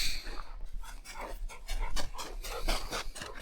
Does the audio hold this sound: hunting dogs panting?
yes